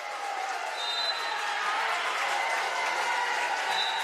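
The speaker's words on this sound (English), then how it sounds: "And that applause you hear" Crowd applause from the West Fargo Cheyenne fans at a high school holiday wrestling tournament, a steady moderate clapping in a large gym with a faint whistle-like tone sounding briefly.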